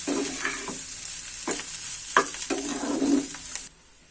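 Potatoes sizzle in a hot pan while a spatula scrapes and stirs several times, the frying hiss cutting off abruptly near the end.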